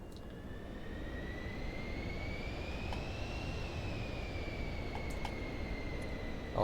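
A jet airliner's engines spool up during takeoff in Microsoft Flight Simulator 2024, a steady loud roar with a rising whine whose pitch climbs and then levels off, heard alone without talk.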